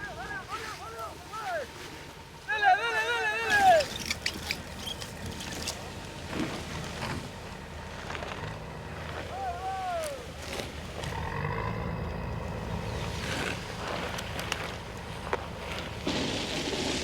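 Someone's motor launch tows freshly cut logs out of a swamp; a low, steady motor rumble runs under wind and scattered voices talking nearby.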